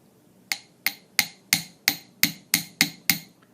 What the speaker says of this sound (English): I'm using my little anvil and a smooth-faced hammer. This is a chasing hammer